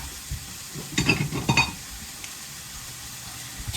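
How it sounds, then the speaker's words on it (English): Garlic powder and salt being mixed together by hand in a bowl give a few short scraping, stirring strokes in a quiet kitchen, close and fairly soft, with no talking. "Gotta mix, mix, mix."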